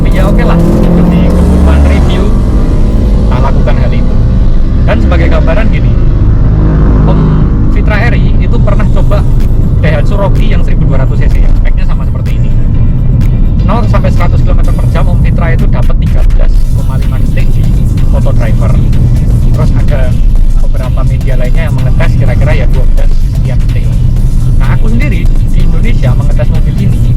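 Toyota Raize accelerating hard from a launch start up to past 100 km/h, a loud continuous engine drone with road and wind roar that stays steady throughout, overlaid by someone talking.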